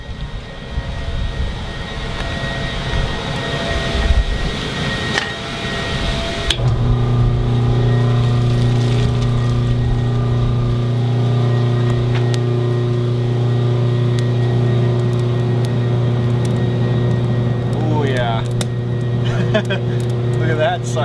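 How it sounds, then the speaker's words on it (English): A Champion forge blower starts up partway through and settles into a loud, steady hum and whir that runs to the end. "I'm going to turn our blower on."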